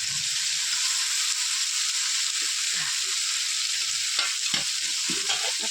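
Mutton from the back and raw fat frying in a thick spice masala for Bengali mutton curry, a steady close sizzle with scattered stirring clatter underneath.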